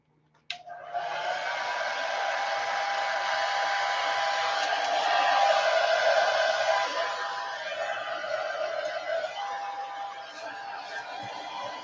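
A hair dryer runs steadily for about eleven seconds, blowing hot air to dry paint on a gelli print in a craft session, with a close, even whooshing hum that starts abruptly and holds level.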